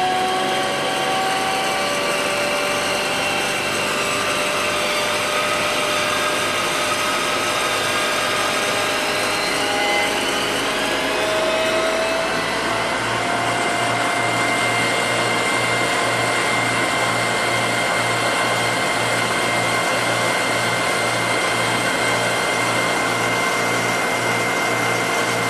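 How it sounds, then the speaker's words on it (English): A PS200 pump runs steadily with a whining, humming drone while its valve is throttled; the tone shifts lower and steadier about halfway through, with no talk. "This cut is showing just the valve throttling."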